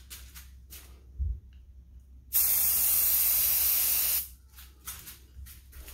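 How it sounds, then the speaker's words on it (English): A can of Rust-Oleum High Performance Enamel sprays onto a boat anchor in one sustained loud hiss lasting about two seconds, with quieter brief spray bursts before and after. "next I'm going to put on the top coat, which is this Rust-Oleum High Performance Enamel"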